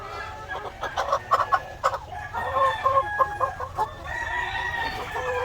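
Egg-laying hens on a farm cluck busily, with a rooster crowing among them. The calls come in repeated bursts at close range, with no talk over them.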